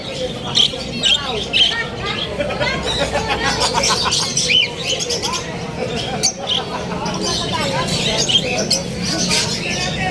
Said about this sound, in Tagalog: mga ibon Kuya Joel to